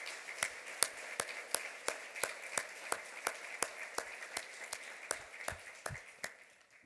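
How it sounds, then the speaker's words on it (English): Sparse applause at an awards dinner, a handful of distinct sharp claps at a fairly regular pace over soft background clapping, gradually thinning out. "please give her another big round of applause as well."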